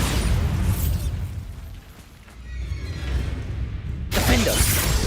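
A video game Bombarda spell sets off a loud explosive burst that fades into a rumbling tail, followed by a second sharp blast near the end.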